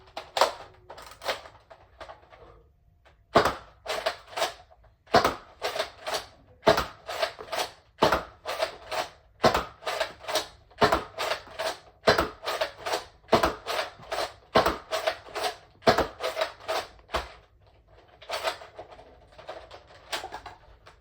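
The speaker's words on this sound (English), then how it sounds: "Let's see it out firing. We will first start out with a 10-round magazine with X-Shot Insanity style darts." Rapid bursts of sharp snaps from a Nerf Zombie Strike Slingfire lever-action blaster firing X-Shot Insanity-style foam darts from a 10-round magazine, each shot a crisp click-thwack in a fast steady rhythm, loud and close, with no talking.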